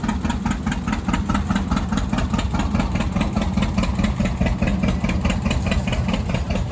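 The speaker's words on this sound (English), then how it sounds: "his 560 Farmall diesel" A Farmall 560 diesel tractor idles steadily at a classic tractor show, its loud, close engine holding an even, rapid thumping rhythm throughout with no talk over it.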